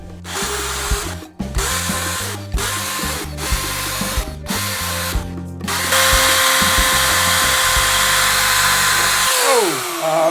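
Power drill driving screws to mount coat hooks in a hallway, loud whining bursts separated by short pauses, then a longer continuous run that winds down sharply near the end.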